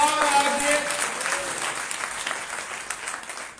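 A congregation at a Sunday church meeting claps hands in a dense burst of applause that gradually fades, with a voice heard briefly over it.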